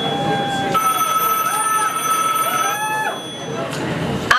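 A telephone rings with a steady electronic tone during a Russian stage play, loud and close, sounding continuously for several seconds before cutting off.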